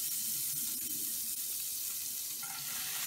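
Spinach hits a hot pan and sizzles steadily at close range, a loud even hiss over the whole short stretch with no talking.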